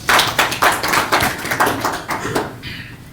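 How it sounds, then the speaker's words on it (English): A room of people at a business meeting clapping for a speaker, loud close claps in an uneven rhythm that stop abruptly after about two and a half seconds. "Let's clap for him."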